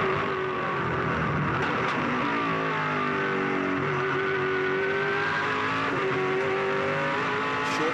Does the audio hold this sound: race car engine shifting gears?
yes